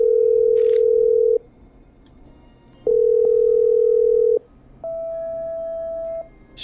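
Telephone tones from the Killer Frequency video game as a call is patched through: two long steady beeps followed by a slightly higher tone, each loud and clean with short quiet gaps between.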